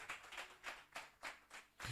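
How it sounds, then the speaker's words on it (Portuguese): A church congregation claps in a faint, distant rhythm of roughly six evenly spaced bursts, like a slow patter of hands in a large room. "Aplauda o Senhor Jesus Cristo, igreja."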